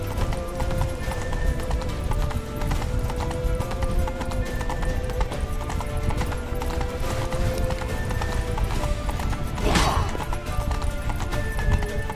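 Steady rhythmic hoofbeats of a galloping horse in The Witcher video game, over a busy game soundscape, with a brief whoosh near the end and faint voices.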